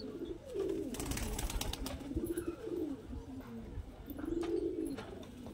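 Madrasi pigeons cooing repeatedly up close, several low rolling coos recurring in a steady rhythm against faint background noise.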